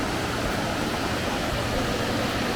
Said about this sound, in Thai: มีน้ำตกเต็มไปหมดเลย